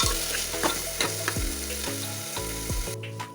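Curry leaves crackle and sizzle steadily in hot oil in a pan while cooking a Kerala beef curry, with a low rhythmic pulsing hum underneath and scattered sharp pops.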